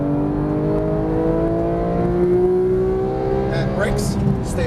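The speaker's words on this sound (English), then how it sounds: "Squeeze that throttle." Porsche 911 GT3 (991) engine pulling hard on a race track, a loud steady harmonic drone climbing in pitch as it accelerates, with faint tire or wind noise near the end.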